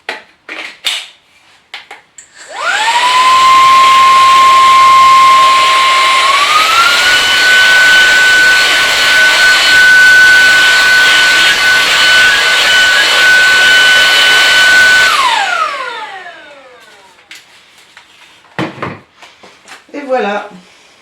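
A VacTechPro V15 Ultra stick vacuum cleaner whirs up to a loud, steady high-pitched whine, steps up in speed partway, runs for about twelve seconds, then winds down, with brief clicks and handling noises before and after.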